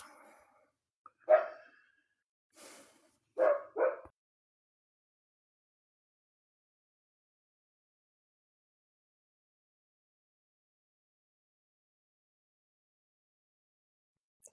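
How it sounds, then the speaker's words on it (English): Dogs bark outdoors in a few short bursts early on, a single bark and then a quick double, moderately loud. Long silence follows. "I muted because my dogs are out there barking"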